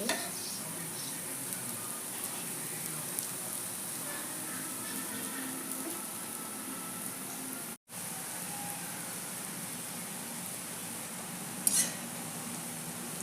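Masoor lentil fritters (bora) frying in a pan give a steady, low sizzle of hot oil throughout, with faint stirring and an occasional light clink of utensils; a brief dropout breaks the sound midway.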